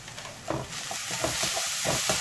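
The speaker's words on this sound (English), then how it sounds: "Let it saute until light brown" Chopped onions with garlic cloves sautéing in a pan for Punjabi chole masala, giving a steady loud sizzle and hiss with stirring scrapes mixed in, close and continuous, no talking.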